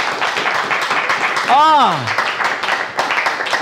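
Audience clapping for a mostly female school quiz team in a televised competition, steady applause running throughout with a brief sliding vocal exclamation in the middle.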